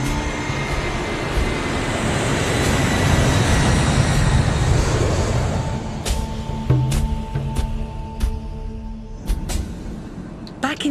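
A steady, loud airliner jet engine roar fills the air, easing into a lower hum with scattered knocks and clicks as it settles.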